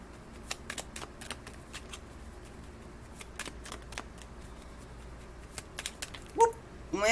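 Tarot cards being shuffled by hand in a quiet room, a series of short crisp riffling bursts spaced irregularly, close and fairly soft, with a brief louder handling noise near the end.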